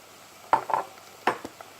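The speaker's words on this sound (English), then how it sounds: "You'll hear it sizzle because of the temperature and from the water" Ginger hits browned onions in a hot pan for chickpea curry and is stirred, bringing a few quick scraping clinks against the pan over a low background hiss.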